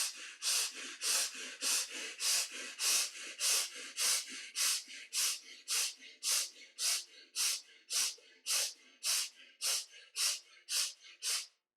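Quick, short, forceful breaths drawn into the chest during a yoga breathing exercise, about two per second in a steady rhythm, close and breathy, continuing for around a dozen seconds with no talking.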